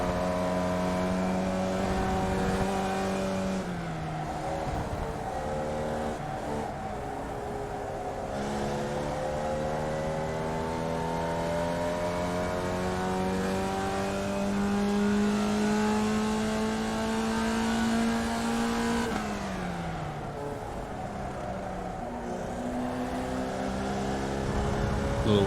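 A Formula Vee race car engine drones loud and close from onboard at Rudskogen, pitch climbing through the gears with drops at each shift and lift for corners.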